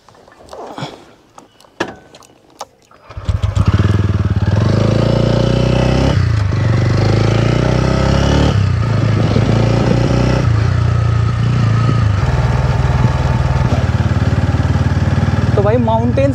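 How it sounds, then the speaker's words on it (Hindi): A TVS Ronin 225 motorcycle starts up after a few clicks and handling sounds, then its engine runs loud and steady while riding, with a low continuous drone and slight rev changes. "10-12 साल बाद मैं बाइक चला रहा हूँ"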